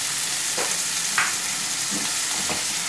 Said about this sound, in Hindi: पैन के अंदर हम डालेंगे कुकिंग ऑयल 2 to 3 टेबलस्पून। चलें इसमें हम डाल देंगे ये चॉप्ड अनियन